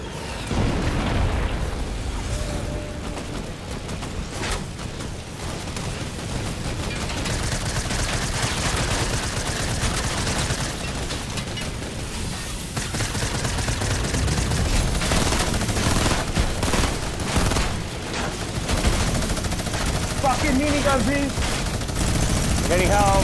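Rapid, sustained minigun fire in Fortnite during an aerial dogfight, a dense continuous roar of shots that runs almost unbroken through the whole stretch, with players talking over it.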